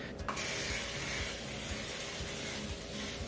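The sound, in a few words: spraying Morphe mini peach setting spray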